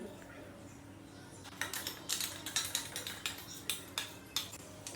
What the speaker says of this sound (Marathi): तर बटाटे खिसून घेतले